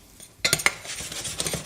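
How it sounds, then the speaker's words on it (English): A metal utensil stirs vigorously in a pot while churros and spiced chocolate are made, a quick run of close clinks and scrapes after a short quiet start. "Stirring vigorously."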